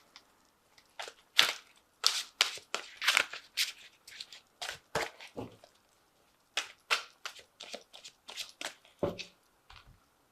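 Angel Tarot cards being shuffled and drawn, a series of close, sharp riffling snaps and slaps in irregular bursts with short quiet pauses, heard alone.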